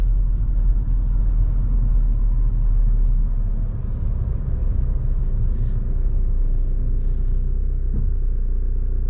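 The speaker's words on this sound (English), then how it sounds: "something's rattling underneath the hood" A Honda car engine with a rattle under the hood runs nearby, making a steady, loud, low rumble that stays even across the whole stretch.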